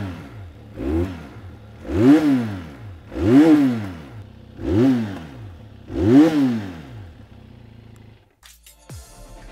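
Benelli 502C cruiser motorcycle with a 47.5 hp engine revving loud and raspy in five rising-and-falling bursts, each swelling and dropping back to idle, close up with no talk, then cutting off near the end.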